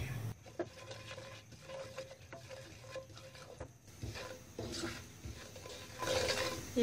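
Ground fennel and red chili stirred in hot ghee: a spoon scrapes and taps the pan in a steady rhythm over a soft sizzle, close by, with no talking.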